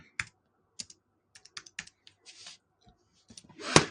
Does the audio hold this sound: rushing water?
no